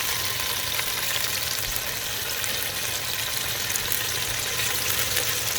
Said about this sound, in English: I'm gonna let it saute, simmer for a little bit